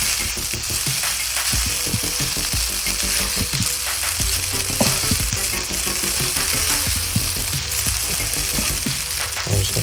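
Fried rice sizzles and crackles loudly in a hot pan as it is flipped over, with a steady frying hiss and scattered rattling clatters throughout, no voices.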